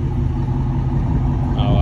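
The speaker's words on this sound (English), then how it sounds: "You guys can hear it on idle, it sounds good. Just with the Resonator delete, you can really hear it." 2021 Dodge Charger Scat Pack 392 V8 with a resonator delete idling, a steady deep rumble close by for a couple of seconds, with a voice talking over it.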